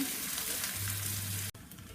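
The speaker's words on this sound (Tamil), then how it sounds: "இப்போ வெங்காயத்தை ஆட் பண்ணி பூண்டையும் ஆட் பண்ணுறோம். நல்லா வதங்கட்டும்." Onions and garlic sauté in a pan for a Tamil curry-leaf kuzhambu, giving a steady close sizzle with stirring. The sizzle breaks off sharply near the end, then resumes more quietly.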